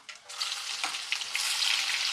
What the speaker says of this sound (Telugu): ఇప్పుడైతే ఉల్లిపాయ వేసేస్తున్నా